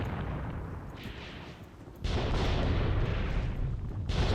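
A gun fires in the war game Graviteam Tactics, with distant rumbling booms and then a heavier blast at mid-clip that leaves a sustained loud rumble.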